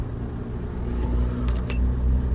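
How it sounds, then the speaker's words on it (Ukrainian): A 2013 ZAZ Vida with a 1.5 engine idling after switching to LPG gas, a steady low close rumble with a few faint light clicks from the injectors toward the middle. "щелкнули форсуночки оберти тримаються, газ робить"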